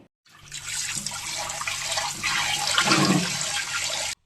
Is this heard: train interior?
no